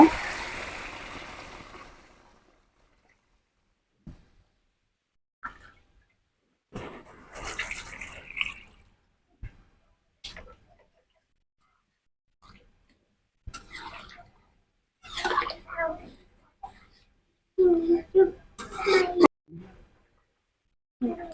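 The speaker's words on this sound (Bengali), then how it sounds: "আমার জালি কষানো শেষ এখন আমি পানি দিয়ে দিব" A short burst of water poured into a cooking pot of sponge gourd on a clay stove at the start, then quiet stretches broken by clattering kitchen sounds and brief talking.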